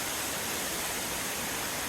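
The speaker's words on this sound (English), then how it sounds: "The waterfall behind me." A waterfall on a creek during a winter hike, heard as a steady, dense roar of falling water that fills the clip evenly, close and loud, with no speech.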